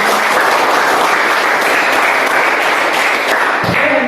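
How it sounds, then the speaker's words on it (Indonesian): A classroom group claps steadily and loudly for about four seconds, a dense wash of applause with no voices over it. "Sekali lagi, kasih tepuk tangan untuk diri kalian."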